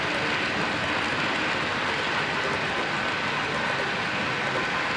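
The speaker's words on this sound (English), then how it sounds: "That train just now immediately started up." A train pulls away and rolls past in a steady, loud broadband rumble with a faint clatter of wheels, continuous and close for the whole stretch with no voices.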